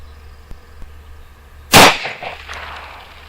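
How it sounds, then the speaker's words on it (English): A single sharp, loud gunshot from a .38 Special jacketed hollow point fired into a water jug, a close crack followed by a short decaying splash and rumble, with quiet before and after. "Next, shooting a 38 special jacketed hollow point."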